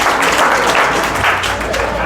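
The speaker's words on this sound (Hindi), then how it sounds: "इसके लिए तालियां बजा दो एक बार।" Students applauding a third-place winner at an academy test-result announcement, a short loud burst of many hands clapping close by.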